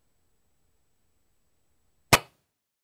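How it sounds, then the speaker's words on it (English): A single sharp, loud gunshot from a short-barreled rifle fired at hogs during a hunt cracks out of near silence and decays quickly. "I'm going to shoot twice."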